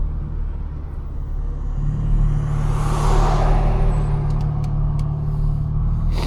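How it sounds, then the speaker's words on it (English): Road traffic at noon in Bend, heard from inside a car: a low engine rumble and passing vehicles swell steadily, with a brief hiss partway through and no voices. "Traffic at noon in Bend."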